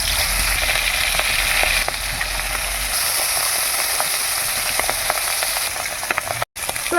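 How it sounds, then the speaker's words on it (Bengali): Fish fry in hot oil in a pan, producing a continuous close bubbling sizzle with scattered sharp crackles and pops, louder at first and settling slightly, with no talking. "তেলটা গরম হয়ে গেছে, এখন এক এক করে আমি মাছগুলি দিয়ে দিচ্ছি"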